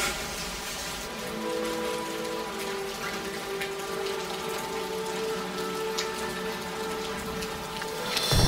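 Steady rain falls on a forest, a dense, even hiss of drops on leaves and surfaces that holds fairly loud and unbroken throughout, with no voices.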